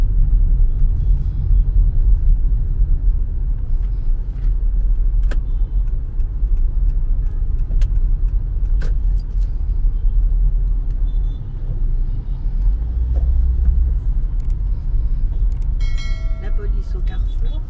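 Busy street traffic in Cotonou, Benin, with many motorbikes, heard from inside a moving car as a loud, constant low rumble with a few passing engines, while someone talks over it.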